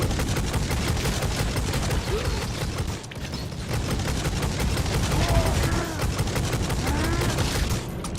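Rapid, heavy gunfire from a big gun in the video game Necromunda: Hired Gun, loud and sustained bursts with a brief lull near the middle, over a dense game soundscape.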